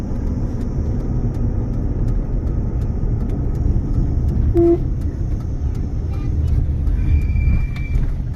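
Low, steady engine rumble from inside a car cruising in fourth gear behind a tanker, with road noise and a brief beep, running beneath continuous talk.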